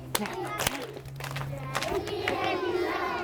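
Children clapping and stamping their feet along to an action song, with rhythmic claps and thumps mixed under singing voices and general crowd noise.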